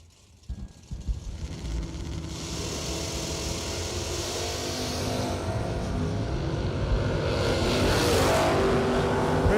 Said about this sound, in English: Todd Pritchard, 571 the dial in that super clean 68 Camaro right lane